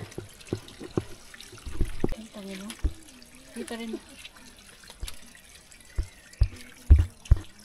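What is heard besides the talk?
spring water trickling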